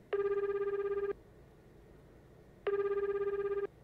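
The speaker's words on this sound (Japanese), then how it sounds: "電話してみよう。" Two steady electronic rings sound as a phone call is placed in the Tokimeki Memorial Girl's Side 4 dating game. Each ring lasts about a second, separated by a pause, and they are clear and moderately loud over faint background hiss.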